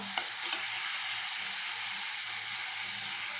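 Green chillies and tomatoes fry in a pan, giving a constant close sizzle with a couple of soft stirring knocks near the start and no voices.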